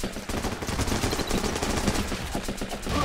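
Rapid rifle gunfire rattles on and on in the video game Running with Rifles, dense automatic bursts overlapping one another with no speech over them.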